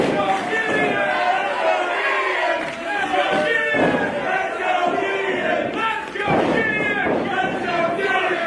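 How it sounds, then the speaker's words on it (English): A wrestling crowd at an AIWF independent show cheers and roars for a wrestler, a dense, loud and sustained wall of voices that swells and dips with brief lulls, without a commentator's voice on top. "The crowd getting behind Mr. International."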